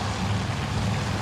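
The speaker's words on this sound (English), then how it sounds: "Oh, that's a torpedo bomber." Aircraft engine drone from a torpedo bomber in the naval strategy game Task Force Admiral, a steady low rumble with broadband noise over it, loud and continuous for a brief moment with no talk.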